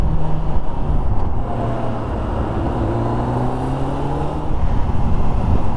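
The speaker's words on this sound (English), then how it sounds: "big city with all its traffic" Dense city traffic around a scooter riding into central Kazan, a steady, close rumble of engines with several vehicles droning and shifting in pitch, continuous and fairly loud with no talking.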